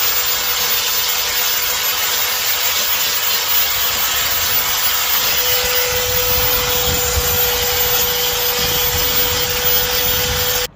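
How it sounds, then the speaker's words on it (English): A belt sander runs continuously on the body of a 1991 Honda CRX near the passenger rear window, a loud, close, steady whine and grinding buzz with no talk. "Had to bring out the belt sander because there's some spots that I just can't reach."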